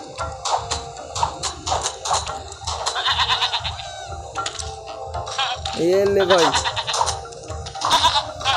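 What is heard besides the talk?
goat bleating in a mountain climbing video game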